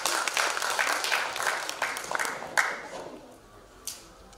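An audience applauds at a literary festival, dense clapping that holds steady, then thins out into scattered claps and a final few isolated hand claps.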